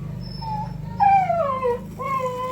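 A pet dog whimpers and howls in rising and falling wails, fairly close, with a steady low hum underneath, in a home kitchen where fish soup with kamyas is being cooked.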